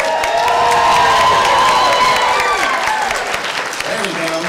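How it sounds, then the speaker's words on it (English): Audience applause and cheering at a fan convention Q&A as guests come up on stage, a dense crowd roar of clapping and shouts sustained loud throughout, with tonal whoops rising above it. "give them a big round of applause."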